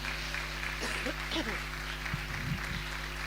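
A church congregation keeps up a dense, steady clapping during a Spanish-language testimony service, while a voice carries on over the applause.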